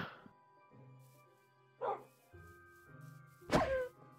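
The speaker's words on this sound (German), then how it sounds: "Hey, das ist mein Hund." A Minecraft dog gives a few short yips and barks in the game, separate bursts spread over a few seconds, fairly quiet beneath soft game tones, with a brief bit of voice.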